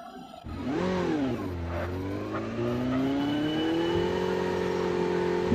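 A motorbike engine revs continuously in a mobile battle-royale shooter game, its pitch sweeping up and then holding a steady drone as the bike rides off, loud and close with no talk over it.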